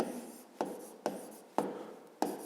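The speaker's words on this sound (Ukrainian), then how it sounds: "Давайте ми це запишемо" Pen writing notes on paper, heard up close as quiet scratching strokes with a sharp tap every half second or so, in a steady rhythm; no talking.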